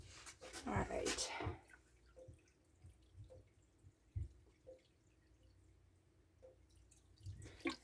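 Filtered tap water from a faucet runs into a hydroponics unit, starting with a louder splashing pour and then thinning to sparse drips and small trickles, faint and close.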